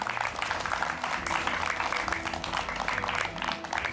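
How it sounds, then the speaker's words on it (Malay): An audience at the final stage of the Qari Jr 2015 youth Quran recitation competition applauds in a continuous, fairly loud wash of clapping with no pauses. "Beri tepukan."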